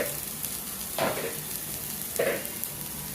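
Cut cauliflower frying in a hot pan on a gas stove for a quick vegetable dish, giving a soft continuous sizzle with two brief stirring scrapes.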